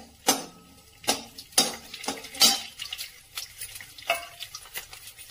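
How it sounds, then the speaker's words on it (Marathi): Cumin, garlic cloves and dry coconut being sautéed in oil, with repeated sharp scrapes of a spoon against the pan over a faint sizzle, fairly close and without talk. "आणि सुकं खोबरं हे सगळं आता आपण छान असं परतून घेऊया"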